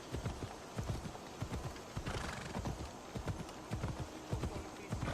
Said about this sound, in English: Ride, Phobos, ride!